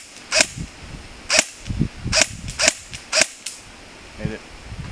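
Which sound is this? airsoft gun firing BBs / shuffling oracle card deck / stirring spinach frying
airsoft gun firing BBs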